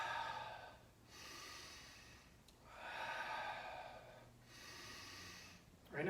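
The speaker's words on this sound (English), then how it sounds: "Continue to breathe." Slow, deep breaths taken during a stretching session, each long airy inhale or exhale fading in and out with brief pauses between, close and soft, with a sharper intake at the very end.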